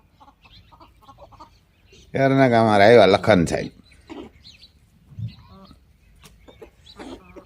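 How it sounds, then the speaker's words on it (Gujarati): On a farm, a rooster crows once, loud and nearby, a long harmonic call of about one and a half seconds, with quiet speech before and after. "ઓલી બાજુથી મરઘો આવ્યો હે બાંધવા, એનો કુકડો એક આ બાજુ હે"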